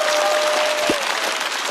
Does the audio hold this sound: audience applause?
yes